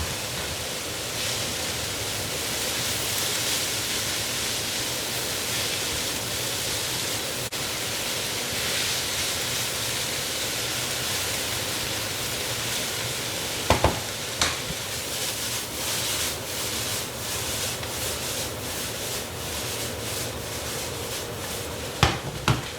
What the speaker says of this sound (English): then we'll add the cabbage and we let it grill